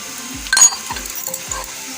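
Chili fries in hot oil in a pan while Bengali banana flower chop is cooked, giving a moderate sizzle broken by a few metal stirring clinks and scrapes.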